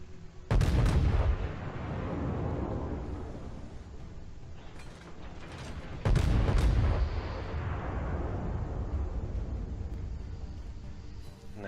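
Warship main-battery volleys in World of Warships: two heavy booming salvos several seconds apart, each a loud blast followed by a long rumbling decay.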